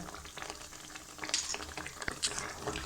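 Spices such as kasuri methi, fennel and coriander being stirred in a hot pan, with a steady close sizzle and scattered scraping clicks of the spoon, no voices.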